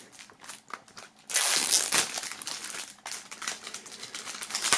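Plastic shrink-wrap foil peeled and crinkled off a music CD album from a box set, a loud continuous crackling that starts after a quiet moment and keeps going, close up.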